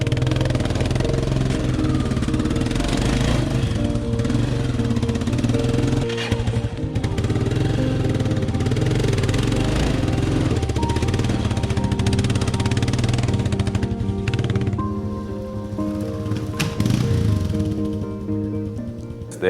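A vintage enduro dirt bike's engine runs steadily and loudly nearby, a continuous mid-pitched motor drone with slight rises and dips in revs and no talking.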